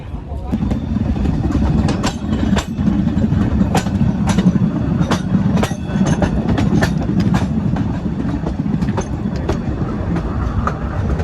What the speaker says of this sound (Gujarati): આપણી રિટર્ન ટ્રેન આવી ગઈ છે